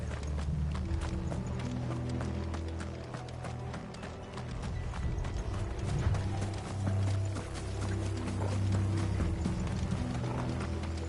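Rapid hoofbeats clip-clop steadily over a low rumbling soundtrack in Final Fantasy XVI, the galloping rhythm continuous and fairly close throughout.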